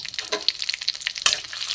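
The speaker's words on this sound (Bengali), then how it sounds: "এটা ভাজা ভাজা হয়ে গেছে ফোড়নটা জিরে লঙ্কা তেজপাতা" Whole spices, cumin, dried chilli and bay leaf, fry in hot oil in a home kitchen, a brief close crackling sizzle with sharp little pops, steady and alone without voices.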